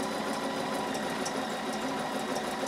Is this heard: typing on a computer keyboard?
no